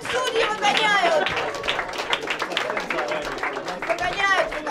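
Audience clapping and cheering at a Balboa swing dance contest, a steady patter of applause with whoops, crowd chatter and a voice mixed in underneath.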